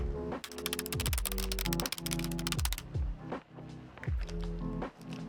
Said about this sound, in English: Let's go ahead and remove the rest of the switches.